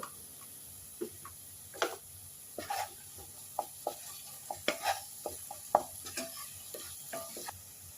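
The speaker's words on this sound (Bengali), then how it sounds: "এবার পরিমাণ মতো নুন দিয়ে আমি মিশিয়ে নেব।" Chana masala spices being stirred with salt in a pan: sporadic scrapes and light spoon taps against the metal over a soft sizzle, quiet and close, with no talking.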